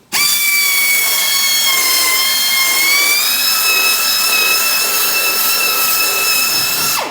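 A power drill fitted with a polishing cloth buffer whines steadily on a car headlight, a loud, continuous high-pitched hum that drifts slightly in pitch and cuts off at the end, with no talking.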